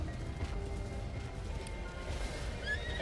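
A horse in Zelda: Breath of the Wild whinnies faintly beneath a constant low rumble of game ambience and soft hoof-like clops.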